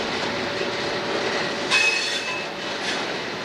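Northbound passenger train departing in South Florida, a steady rumble of rolling wagons with thin wheel squeals and a brief louder clatter midway, heard alone.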